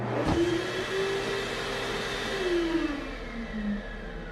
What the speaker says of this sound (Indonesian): terdengar suara pengering tangan yang sedang ngahieng